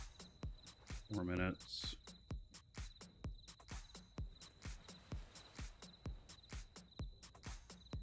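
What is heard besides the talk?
crickets chirping in Dual Universe video game music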